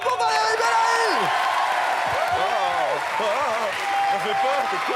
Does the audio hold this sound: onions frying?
no